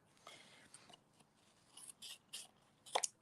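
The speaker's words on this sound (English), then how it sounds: "I'm just going to trim this off a little bit with my scissors." Scissors trimming card paper for a card-making project, giving a few scattered snips and then a tight cluster of sharp cuts near the end, close and fairly quiet with no talk.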